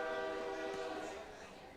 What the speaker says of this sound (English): Train passing by beyond the outfield walls here at Corbett Field.